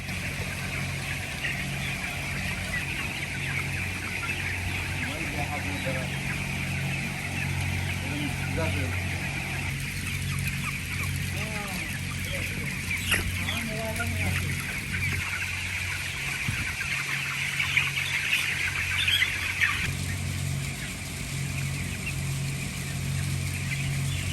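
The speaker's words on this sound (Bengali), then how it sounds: "তিন ঘন্টা পরে আমরা মুরগিকে ভ্যাকসিনের পানি খেতে দিলাম এবং তারা পানি পেয়ে প্রচুর পানি খাচ্ছে" Fifteen-day-old chickens drinking vaccine water, with scattered clucks and short calls over a steady, loud background hum, mostly in the middle stretch.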